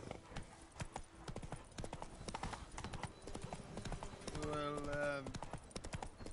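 Roach, Geralt's horse in The Witcher 3, clip-clops in a brisk rhythmic gait up close, a short snorting whinny rising near the end, with someone speaking briefly over the hooves.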